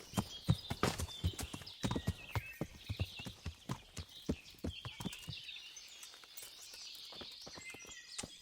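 Horse hooves clip-clop at a steady walking rhythm in the medieval video game Kingdom Come: Deliverance, close and distinct with faint birdsong in the background, the steps thinning out toward the end.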